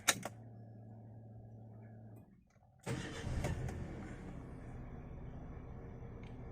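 A Toyota Avanza engine idling, heard from inside the cabin: a low, even hum that dips briefly, then returns with a rougher, louder surge before settling into a steady idle.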